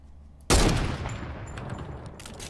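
Sudden loud burst of Fortnite gunfire that breaks a near-silent start, followed by a rapid string of shots that slowly fade in level.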